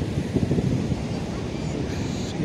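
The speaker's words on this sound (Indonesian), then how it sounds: "indah sekali ombak-ombaknya menggulung." Ocean waves roll and break at Karapyak Beach in Indonesia on a hot afternoon, a broad continuous wash of surf mixed with wind buffeting the microphone, fairly loud and steady.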